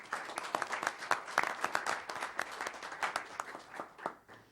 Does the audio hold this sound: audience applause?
yes